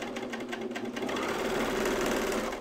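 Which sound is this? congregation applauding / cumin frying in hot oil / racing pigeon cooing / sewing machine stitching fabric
sewing machine stitching fabric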